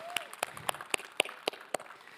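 A small audience claps in a loose, uneven pattern at a workshop on game-based learning and agility: about nine sharp, separate claps spread over two seconds, moderately close, with no steady roar.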